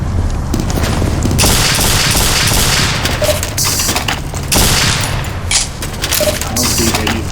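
Loud bursts of video game weapon fire come in dense, booming volleys with clattering mechanical sounds between them, separated by short gaps as someone talks briefly over the action.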